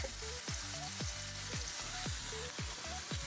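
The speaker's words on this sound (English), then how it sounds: "I'm gonna add some butter. Melt it lightly" Butter melting and sizzling in a hot pan on turned-down heat while a creamy Tuscan chicken pasta is cooked, a steady close hiss and crackle that continues without a break, with no speech.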